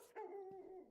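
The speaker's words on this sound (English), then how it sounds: "that's the dog" A dog in an indie game-jam video game gives a single drawn-out bark or howl, a clear tonal call that holds for most of a second, close and alone without talk.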